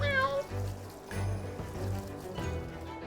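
A streamer on a Palworld stream imitates a cat's meow, a short rising vocal mew near the start, followed by casual talk and game sounds.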